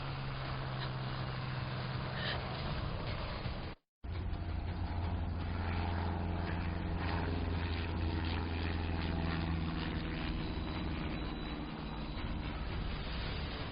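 A propeller airplane passes low overhead, a steady loud engine drone that briefly cuts out and then continues, heard alone without talk.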